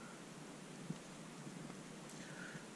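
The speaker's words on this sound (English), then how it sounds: "that's actually the midges hitting my tent, flying around my tent" Midges striking and swarming around a backpacking tent, a faint scattered patter like light rain with soft ticks and rustles, quiet and continuous.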